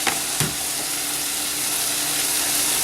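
Onion dropped into a hot pot for a chicken and chickpea stew lets out a loud, steady sizzle and hiss up close, with a brief stirring clatter at the start.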